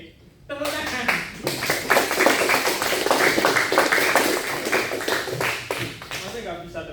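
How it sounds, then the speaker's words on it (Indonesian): A classroom of students claps their hands together in a quick, uneven burst of sharp claps that carries on for several seconds, with some talk mixed in. "Tepuk tangan."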